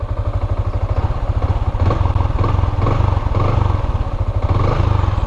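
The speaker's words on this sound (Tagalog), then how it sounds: "makikita nyo yung tunog ng stock pipe ni Yamaha Sniper." A 2023 Yamaha Sniper 155 standard motorcycle idles close by through its stock exhaust pipe, giving a loud, steady, rapid low thumping with slight rises in pace.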